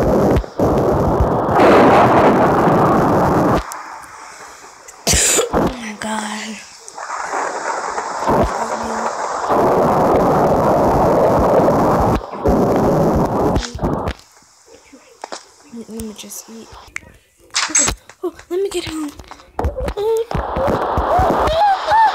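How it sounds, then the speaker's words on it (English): Heavy rumbling thunder and a steady wash of rain in Minecraft, with loud crashes and bursts, followed by quieter stretches with clattering and small chimes. "it's thundering and raining"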